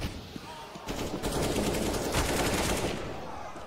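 Counter-Strike: Global Offensive match gunfire, rapid bursts of automatic shots crackling loudly for several seconds after a brief quieter start.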